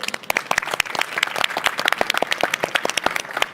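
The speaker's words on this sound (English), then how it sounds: "A warm applause for them as well." A conference audience claps for the panelists after an agriculture sustainability panel, individual sharp claps clearly distinct at moderate density, a smaller crowd applauding steadily for the whole stretch.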